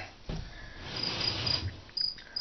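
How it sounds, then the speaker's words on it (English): Crickets chirp in short, high, repeating bursts, fairly faint but steady, over a low indoor rumble with a couple of soft knocks. "Those crickets, incidentally, are doing my nut in."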